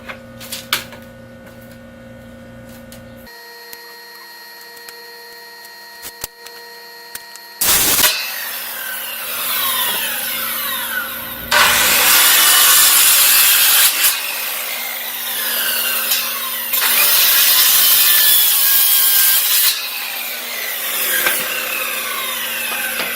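An old wooden pallet is sawn to length: after a quiet stretch with a low hum, loud rasping saw strokes come in several long, close bursts.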